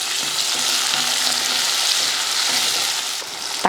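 About twenty small shallots, four or five garlic cloves and curry leaves sauté in hot oil with a steady, loud, close sizzle and some stirring.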